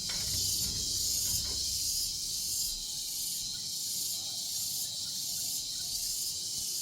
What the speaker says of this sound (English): Some little cricket thing or something.